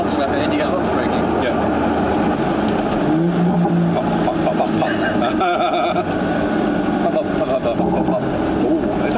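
Morgan Plus Six with a 340hp turbo engine and Morgan exhaust drives under load, a steady engine and exhaust drone with road noise, while people talk over it inside the car.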